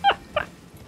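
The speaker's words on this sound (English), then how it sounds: "Good job taking down that dog." Two short dog whimpers from a defeated dog enemy in Elden Ring, a sharp yelp followed a moment later by a second softer whine, then quiet game ambience.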